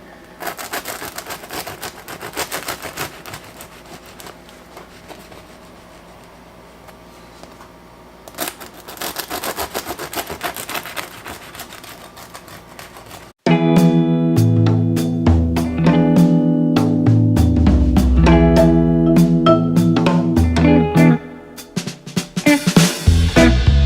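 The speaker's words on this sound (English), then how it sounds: "That was my watch going off." A wristwatch alarm goes off in a kitchen with a rapid run of sharp electronic beeps, loud and close, after a stretch of quieter rustling.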